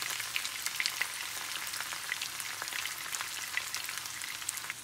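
Boiled potatoes frying in oil, a dense, continuous crackling sizzle with scattered sharp pops, close and steady throughout with no talking.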